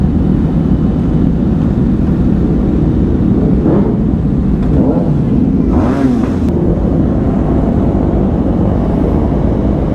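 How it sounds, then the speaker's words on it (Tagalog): Rumbling motorcycle engines from a group ride including a Ninja 1000 SX sports bike, a continuous low drone with a couple of brief revving swells rising over the steady road noise. "Naririnig ko na yung mga ingay ng motor nila eh."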